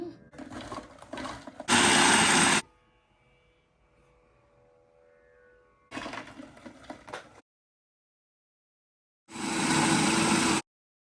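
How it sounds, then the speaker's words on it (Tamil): A kitchen grinding machine blitzes chillies in three separate loud bursts of whirring, each lasting one to two seconds, with quiet gaps between them. "இப்போ இந்த மஷினில் போட்டு அடிச்சுட்டு"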